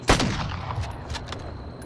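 A single sharp shot from an FFAR rifle in the game Warzone, loud and close at the start, followed by a few fainter crackles and a decaying tail.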